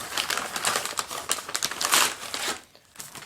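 A gift package being unwrapped, with dense crinkling and tearing of paper that rustles nearby and continuously before easing off at the end.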